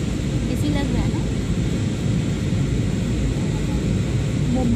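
Airplane cabin during a flight's landing, a loud, steady low-pitched engine and air rumble filling the space, with faint voices beneath it.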